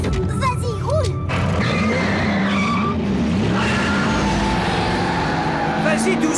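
An animated Transformers: Prime car pulls away with tires squealing and skidding over a loud running engine, while voices and effects crowd the opening moments.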